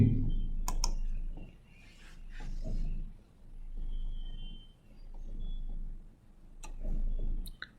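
Clicking and typing on a computer: scattered sharp clicks and soft taps, quiet and close, with long still gaps between bursts over faint room noise.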